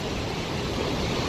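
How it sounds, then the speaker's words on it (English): Rushing water of the Lower Falls waterfall at Yellowstone, a steady, dense roar of pouring water that holds unbroken throughout, with no talking. "And that's the waterfall."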